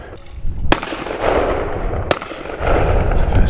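Two sharp shotgun blasts ring out at clay targets under floodlights, spaced over a second apart, loud and close with a booming tail over outdoor background noise.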